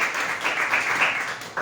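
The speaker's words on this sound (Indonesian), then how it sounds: "Sekali lagi yuk kasih tepuk tangan yang terbaik buat Yesus." A church congregation at a Sunday service claps in steady, dense applause for the whole stretch, fairly close and continuous, with no distinct voices on top.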